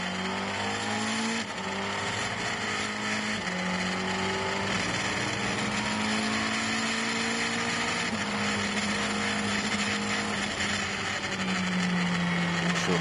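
McLaren GT race car heard onboard during qualifying at Silverstone, the engine loud and continuous, rising and falling through repeated gear changes and revs.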